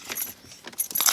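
Keys for a 1984 Corvette jingle in quick bursts, close and clear, as they are handled and fitted toward the ignition.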